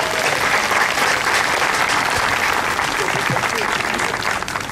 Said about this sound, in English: Give her a hand clap as she comes.